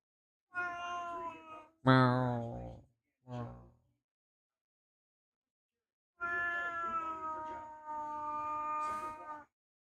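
A kitten meowing close by, two long drawn-out meows with two shorter calls between them, separated by silence, with no talk.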